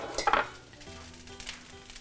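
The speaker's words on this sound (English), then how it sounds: "So now I'm going to put in the Chinese sausage." Chinese sausage sizzles in a wok for fried rice, with a brief loud burst of frying and clatter as it drops in, then a steady low sizzle with occasional scraping.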